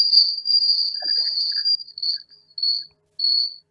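Cicadas or crickets chirping shrilly through a Zoom call, a continuous high buzzing trill that breaks into pulses near the end, loud and close, with no talking.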